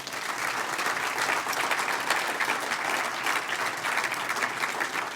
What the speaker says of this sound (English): So let's give Danae a round of applause